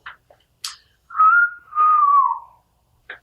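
A human whistle of the flirtatious wolf-whistle kind, two drawn-out tones from a rising first note into a falling second, clear and close in a quiet room, with small clicks around it.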